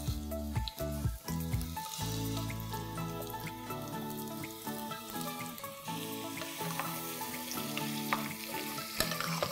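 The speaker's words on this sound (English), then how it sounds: "Let the carrots saute in the ghee for about 2 minutes." Carrot pieces sauté in hot ghee inside a pressure cooker, giving a steady, close crackling sizzle that runs the whole time with faint stirring ticks and no talking.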